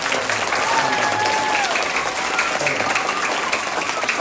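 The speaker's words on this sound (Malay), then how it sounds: "Sekali lagi beri tepukan cikgu yang ajar kita." Students at a primary school community event applaud their teachers, a dense sustained wash of clapping from a large crowd, with faint whistles and voices audible underneath.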